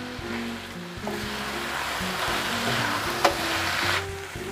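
Beef tripe (babat) and grated coconut for Madurese serundeng fry in a pan while being stirred, giving a steady, close sizzle with soft scraping and one sharp clink near the end.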